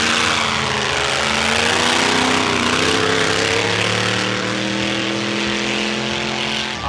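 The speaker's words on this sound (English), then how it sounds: "people cannot believe that a backhoe is going down a drag strip doing 80, 90 miles an hour" A drag-racing backhoe runs flat out down a drag strip at 80 to 90 miles an hour, its engine a loud, steady, continuous roar with harmonic drone and no talk over it.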